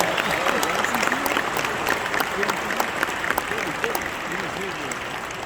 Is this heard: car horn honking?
no